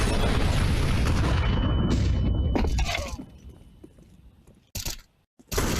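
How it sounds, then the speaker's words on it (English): An incendiary grenade is thrown in a video game and goes off with a loud, dense burst of crackling blast noise. It fades into a quieter burning hiss, then two more sharp hits land near the end. "Throwing a grenade. Incendiary."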